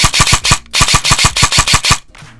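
INF M4 RED Skeleton Edition full-metal electric airsoft rifle with electronic trigger, acceleration cylinder and reinforced tappet, firing rapid bursts of sharp, loud, evenly spaced shots that stop abruptly, leaving a brief mechanical tail.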